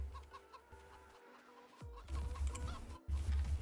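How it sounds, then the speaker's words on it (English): Chickens cluck repeatedly in the farming video game Farming Simulator 22, with short, close clucks over a low background hum and other game sounds. "Chickens make so much bloody noise, don't they?"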